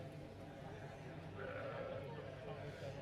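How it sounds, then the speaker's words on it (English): Dutch Spotted sheep bleat faintly amid the steady crowd murmur of a show ring, with a commentator speaking over the busy, distant background. "Great selection of sheep coming through."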